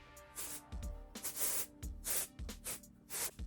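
Several short bursts of dry shampoo aerosol spray hiss in an uneven rhythm, close and fairly loud, with faint handling thuds between them.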